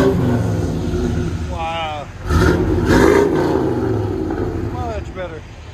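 A car engine revving through a Flowmaster big block muffler gives a loud, deep roar that swells in bursts. A voice speaks over it briefly and exclaims.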